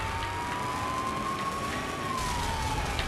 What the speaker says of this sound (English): Get the siren going.